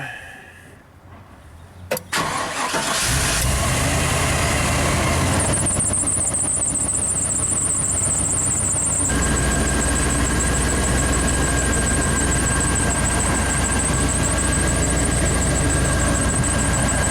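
A motorhome engine cranks and starts after about two seconds, then settles into a steady, loud idle with a constant low rumble, a high whine layered on top for most of the clip.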